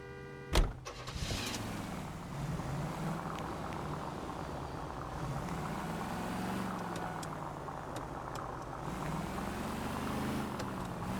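Car driven in the 1940s Los Angeles setting of the video game L.A. Noire: a steady engine drone with shifting pitch runs throughout, starting after a brief sharp knock near the beginning, moderately loud and with no talk.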